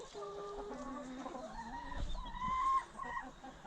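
Several chickens on an allotment cluck and chatter close by, with a short rising squawk near the end and no talking.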